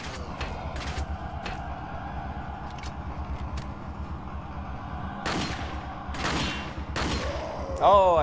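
Sharp gunshots in Resident Evil 4 Remastered fighting zombie dogs, several spaced bursts rising over a low droning background, the loudest shots near the end.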